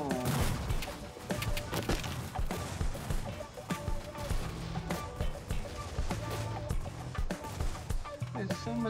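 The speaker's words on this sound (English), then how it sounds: "there's so much exploding around me" Explosions and crashes in the physics video game Turbo Dismount, a dense run of loud thumping blasts and impacts over a busy music-like game soundtrack, with a voice talking over it.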